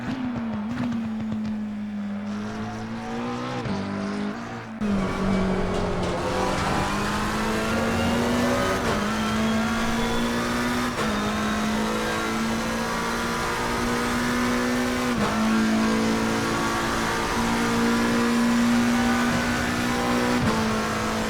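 A McLaren 720S race car lapping Imola in the racing game Assetto Corsa Competizione, its engine droning loud and constant, pitch climbing through the gears with brief dips at each shift, and no talking.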